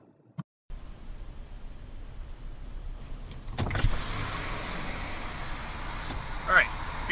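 A car's electric power window motor whirs steadily inside the vehicle during a dash-cam recording, loudest over the last few seconds, with voices talking nearby.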